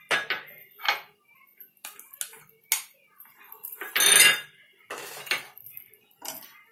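A metal spoon scrapes and clinks against a pot while stirring a white green-chilli paste for a nawabi paneer lababdar, with short irregular taps and one longer scraping stir, close and clear.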